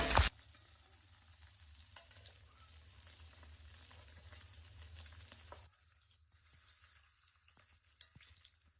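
Tilapia fish frying in oil makes a soft, continuous sizzle that drops quieter partway through, after a brief sharp knock at the very start.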